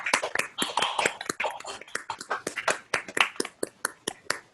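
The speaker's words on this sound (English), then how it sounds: "Feel free to unmute yourselves to give them a round of applause" Participants on an online video call unmute themselves to applaud at an AAUW Long Beach program. The claps are scattered and uneven, with crisp individual smacks from a few people that overlap loosely and continue throughout.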